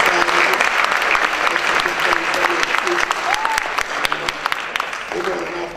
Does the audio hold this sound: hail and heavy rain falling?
no